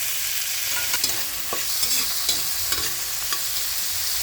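Garlic, onion and sliced tomatoes sautéing in a pan, a loud steady sizzle close by with a few faint scrapes of stirring scattered through, no voices.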